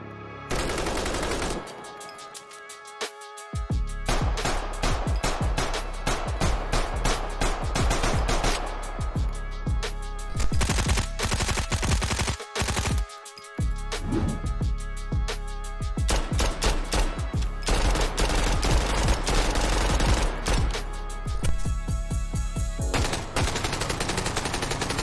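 Weapon gunfire in an open-world shooter video game: rapid bursts of sharp shots and sustained automatic fire, loud and close, broken by a few brief silent gaps.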